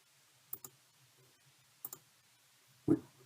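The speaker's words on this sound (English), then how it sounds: "we click on the toggle" Computer mouse clicks while working in GeoGebra software, three sparse, crisp clicks spaced apart in an otherwise quiet room, the last slightly louder.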